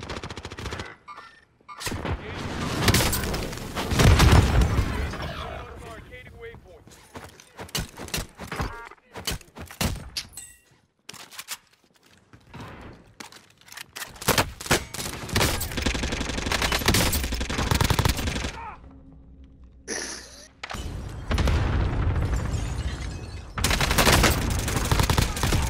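Video game firefight in a battle royale match, with repeated loud bursts of rapid gunfire and single shots in clusters, separated by short lulls, plus brief shouted voices.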